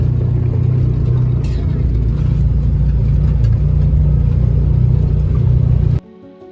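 A car climbs a hill on a snowy Colorado hunting trip, its engine a steady low close drone under faint background noise before cutting off abruptly near the end.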